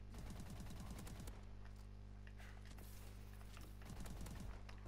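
Light machine gun fire in Call of Duty: two short, faint, rapid bursts, one at the start and one near the end, under a constant low drone of game ambience.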